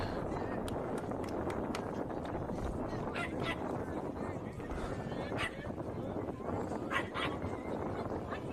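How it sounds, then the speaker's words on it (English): Dogs bark and whimper in the stands at an outdoor college baseball game, scattered yips rising through steady crowd murmur and a commentator's voice. "Dogs offering encouragement to Drew as he delivers."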